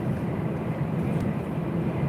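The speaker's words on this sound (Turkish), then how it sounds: "çok inceden kapıların arasından rüzgar sesi alıyor ki tır bu" Low, steady rushing roar inside a truck cab on the move with windows shut, faint wind hissing through the door seals over a constant rumble, no voices.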